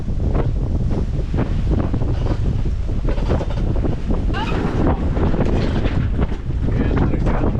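Gusty wind buffeting a sailboat at sea as it turns into the wind, a loud, continuous rushing roar with rumbling microphone wind noise and faint water sounds, close and unbroken.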